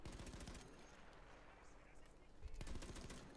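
Bursts of rapid gunfire in the video game Battlefield 1 crackle in short volleys, a quieter stretch in the middle before another loud burst near the end.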